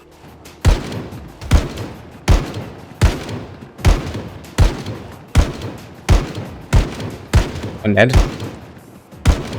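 Rifle and pistol gunfire from armed men in Project Zomboid Build 42, a steady series of about a dozen loud, sharp shots spaced roughly a second apart, with a brief voice speaking near the end.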